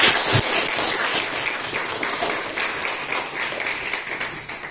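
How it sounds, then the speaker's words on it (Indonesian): Dense, loud audience applause for the pro and contra speakers at a millennial debate, sustained throughout and tapering slightly toward the end. "Beri tepuk tangan dulu kepada pembicara pro dan kontra kita hari ini."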